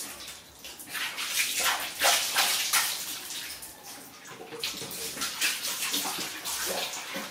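Water gushes steadily from a tap, splashing and hissing into a basin at close range, with no voices over it.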